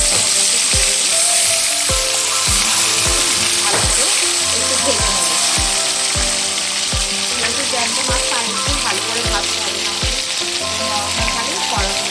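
Small fish fry in hot oil with a loud, continuous close-up sizzle and regular soft knocks, while a voice talks over it.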